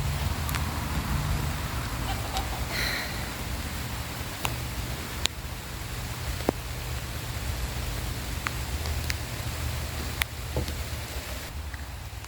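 Rain falls on a potato field in a steady, even hiss, with a few sharp drops and knocks popping out over the constant wash.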